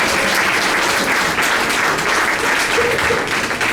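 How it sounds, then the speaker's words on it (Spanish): Sustained audience applause from a crowd at a human rights talk, dense and steady throughout at an even, fairly loud level. "Aplauso para todos, para todos."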